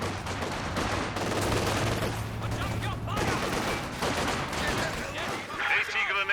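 Bursts of gunfire in a Company of Heroes 2 2v2 battle crackle close and loud over a dense bed of battle noise and low rumble.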